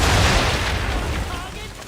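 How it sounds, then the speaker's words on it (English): A ship's cannons firing a broadside in the video game Assassin's Creed III, a heavy booming blast at the start that rolls off into a long rumbling, crackling decay. "Fire broadside!"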